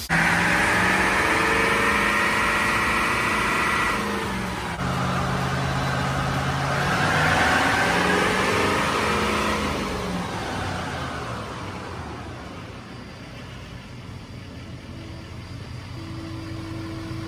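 A stock Duramax diesel pickup truck on a dynamometer roars loudly through a sustained pull, its engine note climbing and then winding down to a lower idle-like hum, with no talking.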